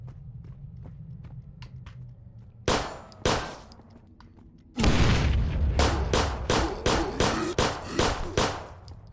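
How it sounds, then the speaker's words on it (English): Handgun shots fire in the Zompiercer zombie game inside a tunnel: two sharp cracks, then a loud blast followed by a rapid run of about eight evenly spaced shots, close and punchy over a low rumbling background. "I don't care how many shots I gotta waste on my handgun"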